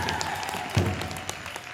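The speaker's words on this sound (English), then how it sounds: "Let's give him a big round of applause" Brief audience applause at a university powwow, a modest scattered clapping with one louder thump, fairly quiet and short.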